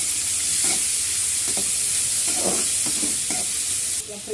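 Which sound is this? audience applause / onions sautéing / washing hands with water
onions sautéing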